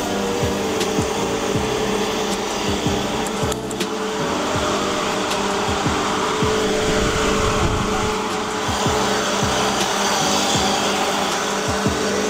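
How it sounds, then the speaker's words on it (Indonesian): Fuel pump and electronics running on a Nissan Silvia S14 fitted with an RB28 engine, a steady close mechanical whir and hum with faint irregular ticking and clicking throughout, no talking. "Itu suara fuel pumpnya semua teman-teman."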